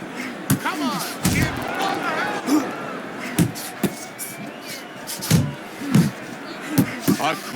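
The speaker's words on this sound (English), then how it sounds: "A crushing two-punch combo by Andre Bishop." Heavy punches thud home in the boxing video game Fight Night Champion on PS3, several sharp impacts scattered over a steady crowd roar, with a commentator talking throughout.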